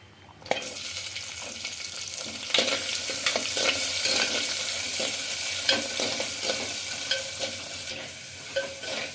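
Chopped onions and green chillies fry in a clay pot, a loud, steady sizzle close by with scattered spoon clinks and scrapes, starting abruptly and holding for several seconds without talk.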